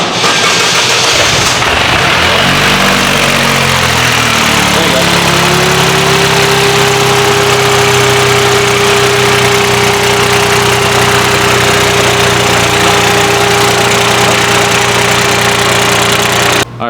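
A built Toyota GR Corolla engine idles on a dyno, settling into a loud, steady drone with a low rumble and a sustained tone, while people talk over it.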